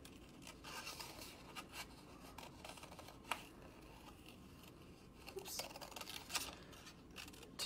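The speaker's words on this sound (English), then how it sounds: "Just go slow, open and closing your scissors." Scissors snip paper while cutting out a paper flower shape, giving faint, irregular crisp snips spread across a quiet background with scattered soft rustles of the paper being turned.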